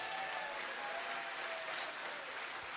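Audience at a Safe Shop business seminar clapping together in a steady, dense wash of applause that holds evenly throughout, fairly faint and with no talk over it.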